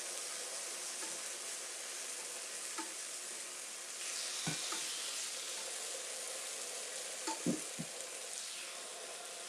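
Six pieces of food sizzle on a grill with a steady, moderately quiet hiss and a few soft scrapes and knocks partway through.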